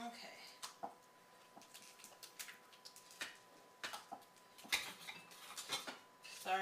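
Alfredo sauce is stirred quickly in a pot, giving irregular light clinks and scrapes of a utensil against metal, fairly quiet and spaced unevenly.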